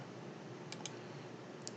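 Soft computer mouse clicks on Next in the Anaconda installer, heard as two quick double-clicks spaced apart over a faint, steady background hiss in a quiet room.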